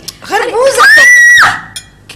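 A woman lets out a loud, sustained high scream in a Pakistani family comedy scene; it rises, holds for about a second and breaks off, with brief voices at the edges.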